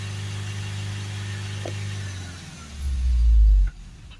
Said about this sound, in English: if we hold the revs up to 3000 RPM